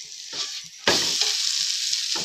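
Omelette paratha frying on a low flame in a pan, with soft handling sounds followed by a sudden, steady sizzle as it is flipped, close and continuous to the end.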